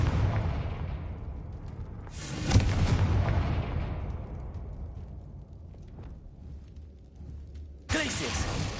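Blasting spell explosions from a Hogwarts Legacy fight, sudden broadband bursts near 2 seconds and again near 8 seconds, each loud and then decaying into a rumbling tail, with steady game ambience underneath.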